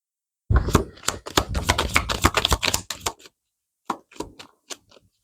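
Cards being handled and drawn for a tarot-style love reading: a rapid run of crisp snapping shuffles up close, then a pause and a few separate sharp taps as individual cards are laid down.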